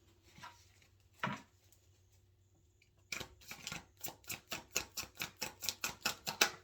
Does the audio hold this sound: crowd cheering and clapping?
no